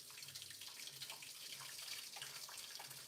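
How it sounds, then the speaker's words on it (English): Water pours from a tap into a cooking pot on a stove in a home kitchen, a steady close splashing rush with no talk over it. "Go ahead and pour my water into this pot."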